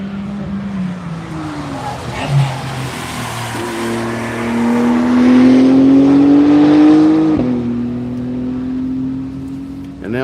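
The number 23 Porsche race car on a track drives past, engine note climbing as it approaches, peaking loud close by, then dropping away as it passes; a faint voice talks underneath.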